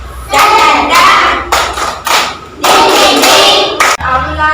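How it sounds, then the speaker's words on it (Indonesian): A classroom of students doing a rhythmic spirit clap, several bursts of loud group clapping and slapping in a patterned beat, close by, with brief pauses between rounds. "kita tepuk semangat dulu"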